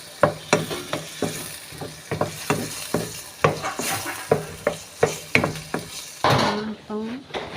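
Chicken is stirred in a pan for chicken pasta, with a utensil scraping and clacking in a rapid irregular rhythm over a soft sizzle, close and clear, and a brief voice near the end.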